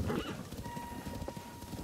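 A short burst of rapid hoofbeats from a harnessed horse in The Legend of Zelda: Tears of the Kingdom, with a whinny rising over the clip-clop, close and fairly loud, with no talk.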